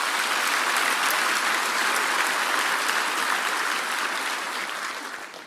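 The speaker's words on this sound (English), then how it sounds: "Can we please have an applause for our sponsors?" An audience claps loudly and steadily for several seconds, the dense applause tapering off slightly at the end.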